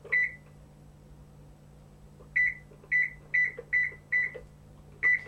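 An oven's timer is keyed in for 20 minutes, giving seven short, clear electronic beeps: one, a pause, then six in a quick irregular run, over a low steady hum.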